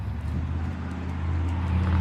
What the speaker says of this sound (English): first there's traffic right there